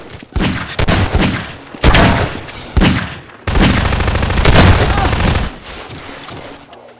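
Bursts of rapid gunfire from Half-Life 2: Deathmatch crackle in several loud volleys, including a long sustained spray, with brief gaps between them during a one-on-one match.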